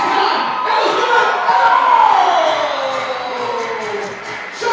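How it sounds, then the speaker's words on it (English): Crowd noise fills a gym at a women's college basketball game as people cheer and applaud steadily, a dense near wash of claps and shouts with a brief lull near the end. "round of applause"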